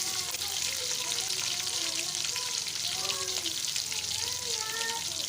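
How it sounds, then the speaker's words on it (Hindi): Onions frying in a pan for potato and taro curry, a steady hiss of sizzling that holds throughout, with a faint, wavering tonal sound drifting over it in the background. "अब मैं इसमें डालूंगी प्याज"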